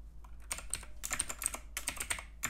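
Rapid bursts of close computer keyboard typing while writing code, with clustered key clicks and short pauses between runs, fairly quiet and alone.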